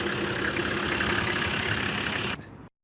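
Steady idle of a Toyota Land Cruiser 78 Troopy's 4.2-liter 1HZ naturally aspirated diesel engine, a rough, clattering rumble, close and continuous, cutting off abruptly near the end.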